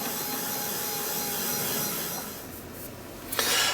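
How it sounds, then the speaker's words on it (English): A heat gun blows steady hot air in a continuous broadband rush that swells toward the end, loud and close with no talking, used for drying a craft project. "Bring out the trusty heat gun, and let's give it a blast."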